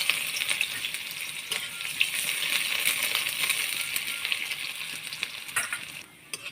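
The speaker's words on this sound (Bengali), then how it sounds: "এবার কেটে রাখা পেঁয়াজ কুচিটাও ভেজে নেবো" Chopped onion frying in a pan, with a steady close sizzle and crackle running throughout and occasional sharper pops and stirring clicks, fading slightly at the end.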